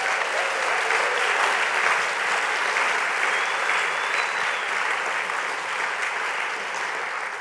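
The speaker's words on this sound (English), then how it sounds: "let's have a round of applause for our finalists" An audience at a National Book Awards finalists reading at The New School breaks into sustained applause, a dense, even wash of clapping from a full room that holds steady and fades only slightly toward the end.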